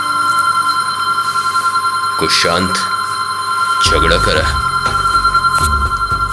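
A telephone rings with a steady electronic tone that runs throughout, while someone talks over it in Hindi.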